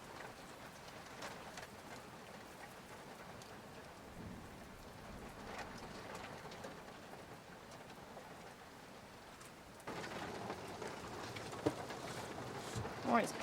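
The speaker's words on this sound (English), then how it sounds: "Oh, it's pouring it down on me." Heavy rain pours down in a steady, dense hiss close by, growing noticeably louder and heavier for the last few seconds.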